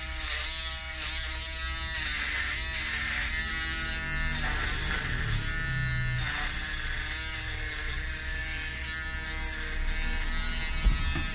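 An electric hair clipper hums continuously while trimming a beard down to the skin, a steady close buzz with slight shifts in pitch as it moves across the face.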